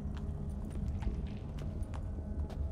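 Hooves of a black horse clip-clop in the video game The Witcher 3 at a steady walking rhythm, a series of light, evenly spaced knocks over a low ambient rumble.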